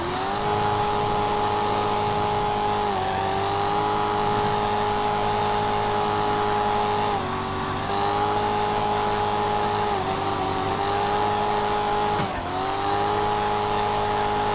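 A racing-game car holds a long drift under hard throttle, its engine droning at high revs with dips and climbs as the driver works the e-brake, ending near the rev limiter, loud and continuous throughout.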